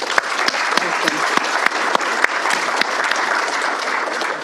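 Audience at a proptech conference applauds to welcome a speaker to the stage, steady dense clapping from a sizeable room with a few sharper claps standing out, continuous and fairly loud throughout.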